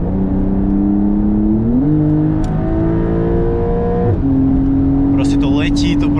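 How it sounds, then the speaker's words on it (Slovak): Porsche turbo engine accelerating hard from inside the car, a loud steady drone climbing in pitch through two gear changes, with a person talking over the last second. "Letí, to proste počuješ to turbo,"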